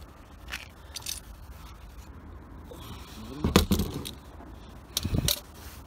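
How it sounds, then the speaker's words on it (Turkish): An oil filter wrench loosening the oil filter on a Mazda 3 during an oil change, giving a few sharp metallic clicks and scrapes spaced apart, with a louder grinding burst near the end against a quiet background. "Şimdi onu sökeceğiz yağ filtre anahtarımızla."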